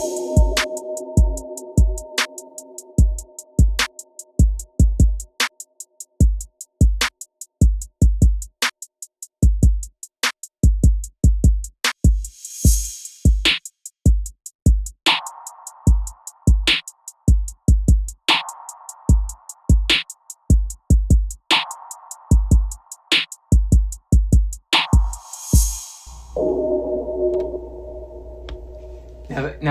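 A synth preset called Infinite One from an E-mu Proteus module, evoking a 007 James Bond video game, plays as sharp rhythmic clicks and pulses with bright swooshes and shifting tonal pads, loud and steady with no talking.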